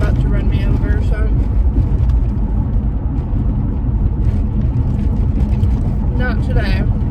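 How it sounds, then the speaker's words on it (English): Loud, close rumble of a big truck driving right behind someone on a road, a heavy engine drone with broadband road noise that swells and recedes over several seconds. "there's a big ass truck behind me that's about to run me over"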